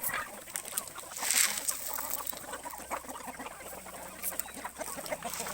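Chickens cluck steadily during a morning feeding of corn, a dense cluster of calls with occasional sharper squawks, close by and continuous throughout.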